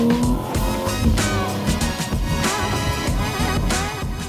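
An Audi S5 accelerating hard through tight mountain-road corners, with a loud, continuous engine roar rising and falling in pitch as it powers between bends, close and steady for a few seconds.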